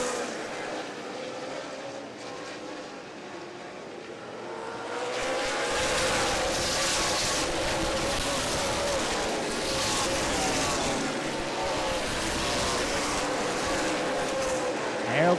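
Race cars roar around Angola Motorsport Speedway during the 100-lap Stan Perry Memorial feature restart, the dense engine noise swelling after a few quieter seconds into a loud, continuous, overlapping drone.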